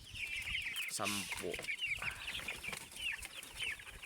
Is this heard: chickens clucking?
yes